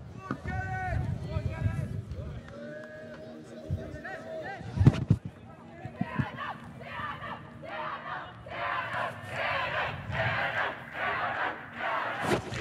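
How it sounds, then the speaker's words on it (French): Crowd atmosphere at a junior women's (J18) rowing podium ceremony: cheering, shouting and rhythmic chanting from a lively group close by, mixed with talking voices, building toward steady chant-like bursts near the end. "Vous pouvez entendre l'ambiance qui règne sur ce podium J18 dames."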